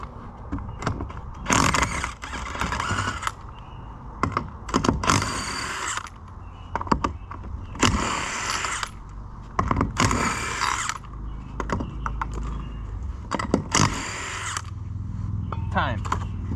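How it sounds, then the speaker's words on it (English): A power tool whirs and ratchets in short, loud bursts while a tire is removed from a trailer hub, with pauses of clinking metal between runs and a voice talking intermittently. "the first thing we're going to do here is we're going to take the tire off"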